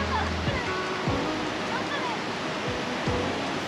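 Rain-swollen water overflows and rushes down beneath a waterfall in Munnar, a loud, continuous roar close by with no break.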